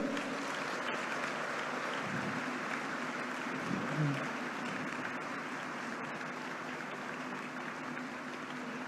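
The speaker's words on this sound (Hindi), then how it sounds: "तो मैं तमाम तलबा और तालिबात से कहूंगा कि अपने वालिदैन के लिए जोरदार तालियां बजाएं" Audience at a Karachi University convocation applauding the graduates' parents, a steady wash of clapping from a large crowd that holds evenly throughout with a faint voice underneath.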